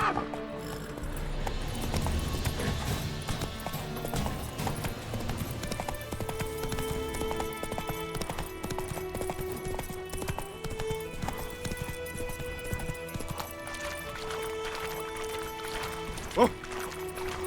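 Roach the horse gallops through the Witcher 3 game world, with steady rhythmic hoofbeats continuing throughout, accompanied by occasional snorts and whinnies over a layered game soundtrack.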